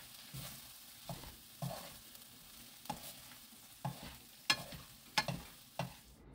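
Onion being stir-fried in a pan with perilla seeds, sesame seeds and a spoonful of perilla oil: a soft, steady sizzle broken by intermittent scraping strokes of a spatula against the pan, growing sharper toward the end, with no voices.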